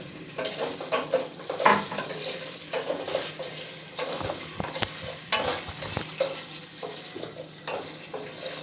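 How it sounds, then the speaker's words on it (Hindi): Popcorn kernels are stirred into two tablespoons of hot oil in a pan, giving an uneven scraping rattle of a spoon against metal over a soft sizzle, with bursts of stirring that come and go. "2 टेबल्स ऑयल में हम डाल लें 1 कप पॉपकॉर्न, और इसको अच्छे तरीके से मिक्स करके हम कर देंगे कवर।"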